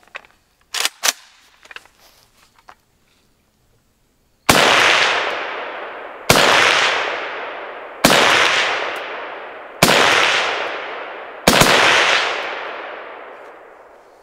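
Five suppressed .30 caliber rifle shots from a Sandman-S or Kestrel 7.62 AK suppressor ring out at an even pace, each a loud sharp crack with a decaying tail, after a few faint clicks and handling noises.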